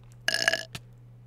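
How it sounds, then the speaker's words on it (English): A burp-like ender teleport effect in Minecraft sounds after an ender pearl is thrown: one loud, gurgling belch of about half a second, then a short, fainter blip, over a steady low hum. "we chuck the ender pearl to the destination we want to go, and we get an ender burp"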